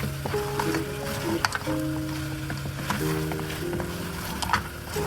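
Mutton frying in a pot for yakhni pulao, giving a steady close sizzle with soft stirring crackles throughout, under a faint sustained melodic tone.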